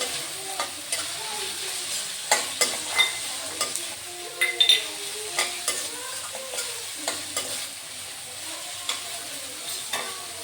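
Capsicum and finely chopped green onions are stirred in a frying pan for pasta. Repeated close scrapes and clacks of the utensil sound over a soft, continuous sizzle, with no talking.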